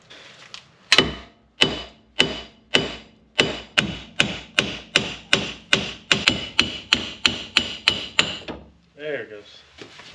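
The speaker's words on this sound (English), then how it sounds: "a couple whacks of a hammer, alternating sides" A hammer strikes a metal wheel hub on a Pontiac GTO again and again, about twenty sharp ringing blows at a steady pace alternating sides, loud and close, followed by a brief metallic rattle.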